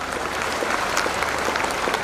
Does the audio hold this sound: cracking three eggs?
no